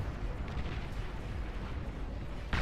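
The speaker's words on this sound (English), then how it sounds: "he's gonna lose both of them in a single explosion" In the strategy game Beyond All Reason, an explosion destroys two commanders, heard as a low, rumbling blast that keeps booming at a moderate level throughout, with a sharper burst at the very end.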